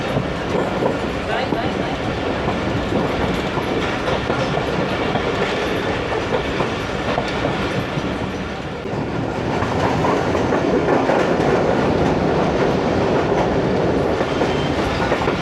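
The Karakoram Express, on a Lahore route, rolls along the railway track with continuous loud rumbling and clickety-clack wheel rhythm heard from on board. The noise swells slightly partway through and a voice is faintly present beneath it.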